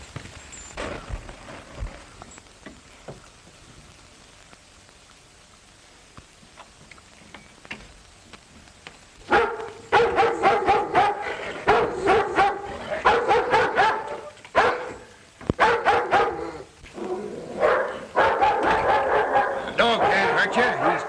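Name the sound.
dog barking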